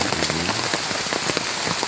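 Heavy rain pours steadily onto surfaces outdoors among wet flowering plants, a dense, continuous hiss of drops with no pauses, loud and close throughout.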